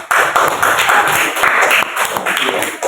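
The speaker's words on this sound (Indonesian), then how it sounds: "Kasih tepuk tangan semua dulu" A class of children claps hands enthusiastically for a few seconds, loud and close, with bursts of uneven rhythm.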